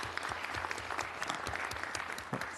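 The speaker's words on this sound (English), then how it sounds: "I think that deserves a round of applause" A city council meeting audience gives a round of applause for a local honoree, a busy crackle of many hands clapping at moderate volume, steady and without voices over it.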